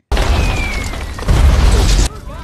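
Bomb blasts in a Vietnam War film, North Vietnamese forces attacking an Australian and New Zealand base in 1966: a continuous loud roar of explosions that swells louder midway, then cuts off abruptly into quieter ambience near the end.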